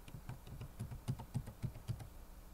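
Fingers type on a computer keyboard in a quick, fairly even run of close, light keystroke clicks lasting a couple of seconds, with no voices.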